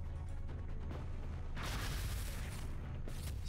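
Gunfire in the video game XCOM: Enemy Within rumbles as a dense, loud wash of booming noise, with heavier bursts rising near the middle and again toward the end.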